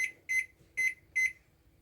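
A kitchen timer beeps three times in short, evenly spaced electronic tones, close and clear with no talking.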